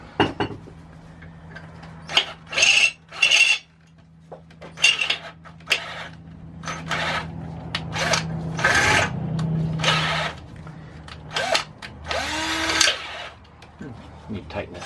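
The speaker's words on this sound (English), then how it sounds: "we need to drill this hole out" A handheld power drill boring out a bolt hole on a mini bike, sounding in several loud whirring bursts with clanks and handling noise between them, and a voice talking in places.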